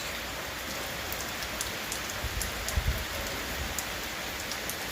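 Steady rain falls on a village in a dense, even hiss, with scattered sharper drops tapping close by and a few low thuds. No voices are heard.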